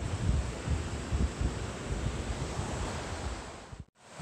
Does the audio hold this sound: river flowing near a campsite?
yes